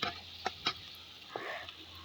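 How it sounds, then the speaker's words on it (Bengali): Onion, tomato, green chillies and garam masala are stirred in a pot, a few distinct scraping strokes of a spoon over a soft, faint sizzle, with quiet gaps between the strokes. "দিয়ে ভালো করে নেড়ে চেড়ে এগুলো একটু ভালো করে সেদ্ধ করে নিতে হবে।"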